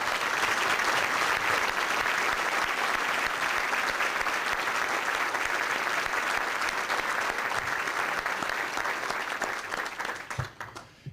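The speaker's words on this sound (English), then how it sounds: "Give them a round of applause." A large audience gives a sustained round of applause for Chicago Public Schools team members, dense and steady for about ten seconds before fading out near the end.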